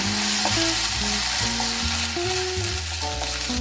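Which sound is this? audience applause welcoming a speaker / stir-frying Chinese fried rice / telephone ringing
stir-frying Chinese fried rice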